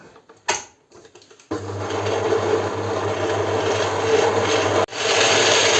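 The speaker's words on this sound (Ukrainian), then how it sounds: "Збиваємо спочатку масло." Electric mixer whipping 300 grams of butter for a wedding-style Bounty coconut cake cream, starting abruptly after a short pause and running as a steady, loud whirring drone with a brief dropout near the end.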